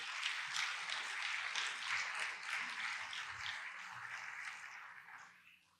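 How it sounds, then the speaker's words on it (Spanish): Congregation applauding during a church sermon, a soft, steady wash of many hands clapping together, fairly distant and sustained, fading away at the end. "ustedes podrían aplaudir"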